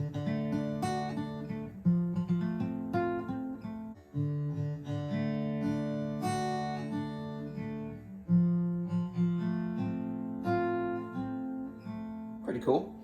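House of the Rising Sun fingerpicked on guitar using a thumb technique, the thumb striking down and back up before the finger plucks; a steady arpeggiated pattern of bass notes and chords plays alone and clearly for about thirteen seconds.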